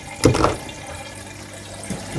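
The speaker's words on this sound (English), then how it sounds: "The only thing I need to do really is just turn it on and pump the water up." An aquarium pump switched on in a DIY macroalgae fishhouse system, pushing water up through pipes: a splashing, gurgling burst followed by steady rushing flow, close and moderately loud.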